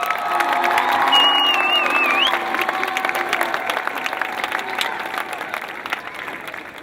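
A large outdoor afternoon crowd claps and cheers for Josh Mandel, elected state treasurer, as he is introduced at a speech; the steady applause with scattered shouts and whistles holds for the whole stretch, slowly easing toward the end.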